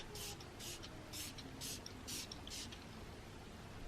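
Six quick bursts of hissing spray from a pump bottle, evenly spaced, close by, over a quiet background hum.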